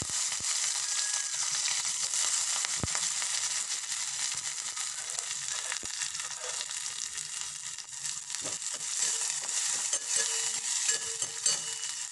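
Onions frying in a pan for a chicken curry with drumstick leaves give a constant, dense sizzle that stays level and close all the way through, with only faint clicks over the hiss.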